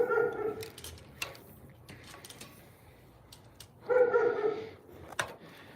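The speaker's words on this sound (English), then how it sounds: "Yeah, the dog's driving me nuts." A dog barking outdoors while ham radio antenna gear is being taken down: a couple of bursts of repeated, fairly close barks separated by a quieter stretch, with faint background noise between them.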